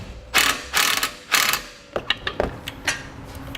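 A ratchet tightens a 10mm horn bolt on a 2015 Ford C-Max during a base plate install, giving several loud, close clicking bursts, then a quicker series of lighter ratcheting clicks, with no talking.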